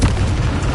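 A Bombarda blasting spell goes off in Hogwarts Legacy, a loud, dense booming explosion filling the short moment with a sustained rumbling roar and no pause.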